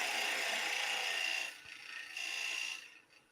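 A bowl gouge cuts spinning wood on a lathe, producing a close, hissing, rasping shear that runs steadily, breaks off briefly, resumes, then fades out.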